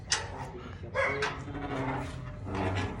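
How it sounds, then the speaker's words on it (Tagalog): A dog barks a few times in short, scattered bursts, fairly close, with some faint background noise between the barks. "Inusig ako ng aso."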